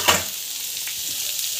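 Onions sautéing in hot oil for a mushroom gravy, a steady close sizzle with a brief louder burst as they hit the pan, then continuous even frying with no voices.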